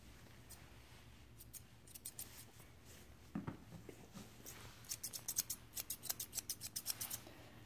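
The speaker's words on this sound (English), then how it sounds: "I'm just going to follow my angle on the underline and snip that stuff off" Scissors snipping hair on an Airedale terrier's leg, quiet close cuts at first, then a steady run of rapid snips toward the end, with no talking.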